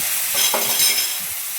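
Water spinach stir-frying in a wok: a short stretch of steady sizzling hiss with soft scraping and tossing sounds, close by and with no voices.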